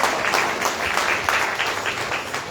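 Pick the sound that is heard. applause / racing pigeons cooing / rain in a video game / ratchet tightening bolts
applause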